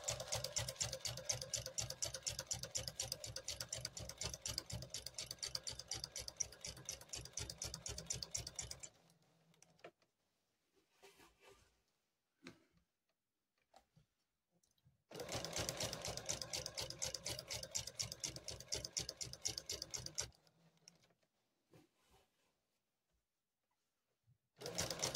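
Sewing machine stitching a window quilt, running in two long rapid bursts of needle clatter separated by quiet pauses with faint handling of fabric.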